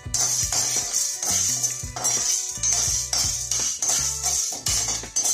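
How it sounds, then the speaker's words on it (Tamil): Chana dal dry roasted in a pan without oil for Tamil kovakkai poriyal, with repeated metallic scraping and clinking strokes of a spoon against the pan in an even rhythm, close and clear. "கடலைப்பருப்பு போட்டு கொஞ்சம் வறுத்துட்டு"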